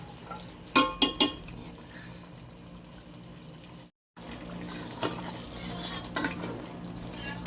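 Green and red chili peppers with carrots, potatoes and green peas cooking in a pan of pork menudo, with a few sharp clinks of a utensil against the pan, then soft stirring and low sizzling.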